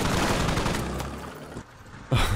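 Rapid bursts of gunfire from the video game Squad Ops crackle densely and loudly, then thin out before one final sharp report near the end.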